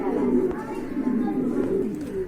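Racing pigeons coo softly and continuously in a low, rolling murmur close by, a pair offered for sale among other birds, with someone talking over them.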